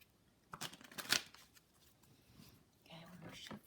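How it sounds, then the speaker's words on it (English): A deck of tarot cards is shuffled close by in a few quick, soft riffling bursts, with a quiet voice murmuring faintly underneath. "Okay, one more shuffle."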